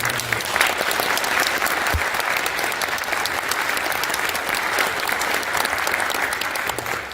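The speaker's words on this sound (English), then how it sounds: "Could we give these folks a round of applause and thank you?" Steady, full audience applause at a King Charles III Coronation Commemorative Medal ceremony in Kitchener-Waterloo, a dense, even roar of many hands clapping that holds at a constant level for the whole stretch.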